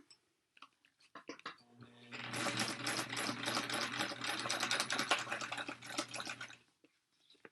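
A sewing machine runs in a sustained buzzing burst for several seconds, stitching through a thick tote bag seam, with a few soft clicks and handling taps before and after.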